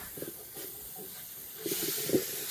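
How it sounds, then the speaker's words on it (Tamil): Ginger and garlic sauté in a pan with a steady, soft hiss that swells briefly near the end, close by and fairly quiet. "இஞ்சியும் உள்ளியும் போட்டாச்சு. நல்லா வதக்கவும், நன்றாக வதக்க வேணும்."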